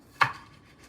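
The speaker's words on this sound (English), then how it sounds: "you can slice it very thinly into slivers" A single crisp knife chop through a green onion being sliced into thin slivers on a cutting board, one sharp close tap followed by quiet.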